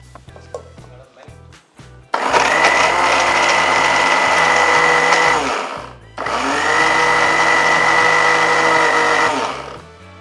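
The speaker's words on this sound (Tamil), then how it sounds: "இது முதல்ல நம்ம மிக்ஸியில் அடிச்சிடலாம்." A kitchen mixer grinder pulverizes curry leaves and tamarind for peanut chutney powder in two loud, sustained whirring bursts, each roaring for several seconds then winding down, after a few clinks of handling.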